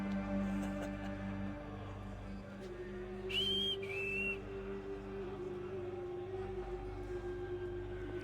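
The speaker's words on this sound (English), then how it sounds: "Who's whistling?" Someone whistles in the Assassin's Creed video game, two short high whistled notes rising then falling over a steady ambient drone, fairly faint and without talk.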